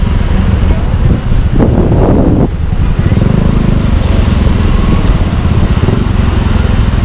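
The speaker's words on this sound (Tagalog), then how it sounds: "Medyo traffic lang talaga oh." Steady roadway traffic on a city street in Batangas City around the old public market, heard from a moving motorcycle, with a constant low engine rumble, wind noise and a brief louder burst of passing vehicle noise.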